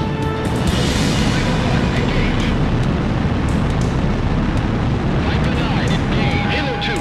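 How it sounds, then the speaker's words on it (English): A missile strikes its target in Ace Combat 4 amid a loud, sustained roar of explosion and jet noise that fills the whole span, with radio voices talking over it. "Missile hit."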